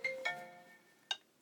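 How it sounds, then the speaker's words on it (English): A phone rings during a lecture with two quick bright electronic tones and then a third shortly after, faint and somewhat distant in an otherwise quiet room. "I apologize for my phone keep ringing."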